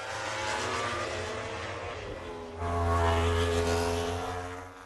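MotoGP motorcycles run practice laps on the 3.7 km Sachsenring circuit in Germany. A sustained, buzzing engine whine rises and grows louder past the listener, then tapers off slightly.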